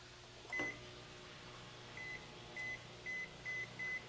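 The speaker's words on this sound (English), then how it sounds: "So we've got the microwave going." A microwave oven running on a 5000-watt modified sine wave power inverter, giving a steady low hum with a series of short electronic beeps and one louder thump near the start.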